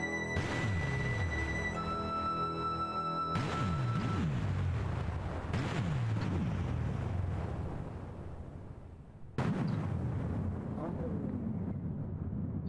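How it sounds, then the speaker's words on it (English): Explosion effects within the music of a fan-made Space Quest film soundtrack: deep rumbling blasts, two sharp bursts each followed by a long decaying roar, blended into a dense, fairly quiet mix, with possible voices underneath. "These are the explosions in the actual music."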